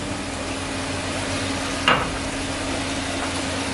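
Tomato sauce with olives simmers in a pan over medium heat, giving a steady, even sizzle. A single quick clatter from the pan or a utensil sounds partway through.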